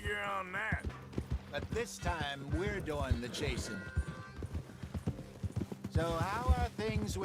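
Horse hooves clip-clop at a steady gallop in the Red Dead Redemption 2 video game, a continuous rhythmic beat running throughout beneath someone talking, with a brief whinny-like note in places.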